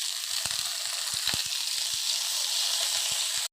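Thankuni leaves dropped into a pan of garlic, onion and green chili frying in oil, with a steady close sizzle and a few soft stirring knocks before it cuts off.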